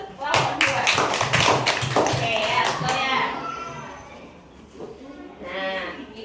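Schoolchildren clap their hands together in a classroom, a quick burst of rhythmic claps near the start that fades into chatter, with voices and bleat-like calls heard afterward.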